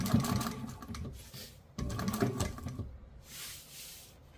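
A sewing machine bastes around a pocket lining for a water bottle bag, whirring in two quick runs of stitching, each about a second and a half, followed by a softer hiss.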